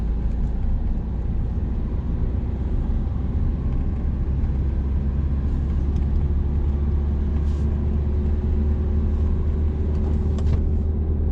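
Car engine during a driving lesson, a steady loud low rumble of the motor with a gradually rising tone as it accelerates, close and continuous, with no speech.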